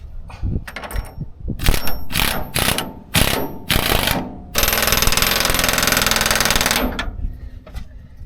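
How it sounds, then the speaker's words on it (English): Truck body mount bolts on a Toyota Tacoma being tightened with a ratchet, a series of short loud clicking bursts followed by a sustained rapid buzzing whir, close and alone. "So I'm gonna tighten up these bolts and do JB Weld."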